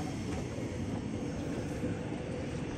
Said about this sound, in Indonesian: dan ini dia Tokyo Metro seri 6000 tujuan Jakarta Kota